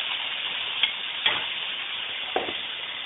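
Ginger garlic paste hits a hot pan and sizzles with a steady fine hiss, broken by a few brief spits and crackles.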